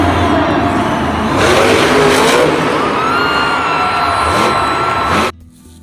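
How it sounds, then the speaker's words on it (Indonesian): A toy blue police jeep's engine revs loudly and steadily for about five seconds, rising and swelling in pitch before cutting off abruptly to near silence. "ada lagi mobil jeep polisi warna biru"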